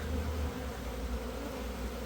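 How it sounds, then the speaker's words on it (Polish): A dense, steady hum of many honeybees buzzing close by around their hives just after the hives were opened, a continuous low drone with no talking. "Pszczoły wyleciały i teraz wszystkie tutaj się kręcą przy ulach."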